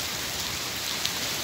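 A heavy rain downpour falls at night during a carp fishing trip, a dense, steady hiss of rain with no voices.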